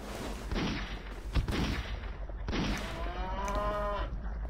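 A cow lows with a drawn-out moo in the Army Men RTS game, heard near and clear over continuous game background noise and explosive bursts, with no talking.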